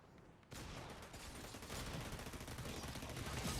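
Rapid gunfire from the Fortnite video game, a dense run of shots that starts abruptly after a brief quiet moment and carries on loud and continuous to the end.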